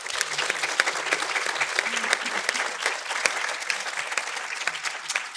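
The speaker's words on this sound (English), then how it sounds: "Round of applause for Bill." Loud sustained applause from the audience at a public talk and Q&A event, a thick continuous wash of clapping with sharp individual claps, steady throughout with a faint murmur beneath.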